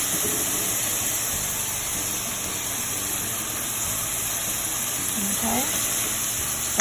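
Ground chicken seasoned with salt and comino sautéing in a pan, giving a steady, close, continuous sizzle and hiss throughout with faint kitchen clatter.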